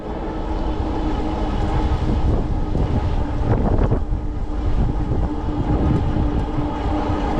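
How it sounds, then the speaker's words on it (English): Strong wind blowing outdoors while riding an e-bike, a steady loud rush buffeting the microphone with a low rumble throughout, with no one talking. "That wind must have switched around to the east. It feels like it's coming out of the due east now."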